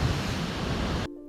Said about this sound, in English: My number 1 favorite waterfall is right behind me